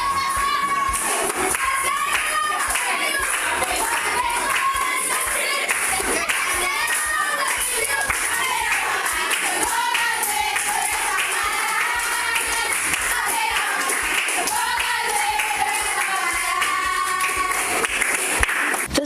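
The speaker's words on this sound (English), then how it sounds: "students can be seen clapping and cheering as they sang gospel hymns during the lunchtime" Schoolchildren in a classroom at South St. George Government School clap and cheer while singing gospel hymns at lunchtime, rhythmic hand claps running continuously under lively group singing and voices.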